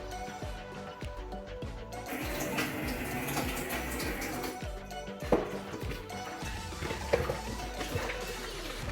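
Water poured into a cooking pot for oxtail with butter beans, a steady splashing stream running for several seconds under background music.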